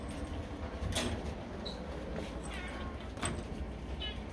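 Cats at a cat shelter give a few faint, brief meows scattered over a quiet, steady background, with no talking.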